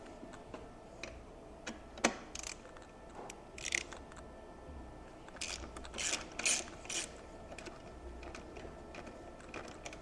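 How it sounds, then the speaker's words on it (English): A ratchet with a 14mm socket on an extension loosening the shock bolt nut on a 2023 Kawasaki KX450 SR, heard as faint, irregular bursts of ratcheting clicks with pauses, fairly quiet and close. "I like to use a 14mm socket on an extension, and that's going to locate right up on there, and we're going to loosen that up"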